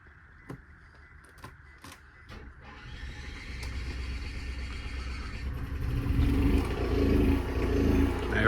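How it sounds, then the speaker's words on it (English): Onboard generator of a 2012 Newmar Baystar 2901 RV: a few sharp clicks, then a low engine rumble that cranks and builds, growing steadily louder and steadier as it settles into running. "Generator cranks right up."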